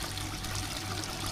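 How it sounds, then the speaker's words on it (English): Small waterfall at a loch after rain, a steady broadband rush of falling and splashing water with a low hum underneath, constant and fairly close throughout. "There's a waterfall thing anyway."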